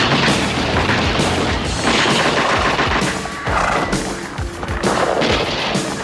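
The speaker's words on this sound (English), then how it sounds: "some of Esteban's crew come into town on horseback and start shooting up the place" Dense gunfire from riders on horseback shooting up a town in the 1987 film Nightforce, rapid overlapping shots and booms forming a loud, continuous barrage that keeps up throughout with no talk.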